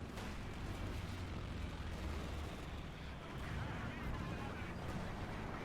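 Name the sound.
fragmentation bomb exploding in Company of Heroes 2 (video game)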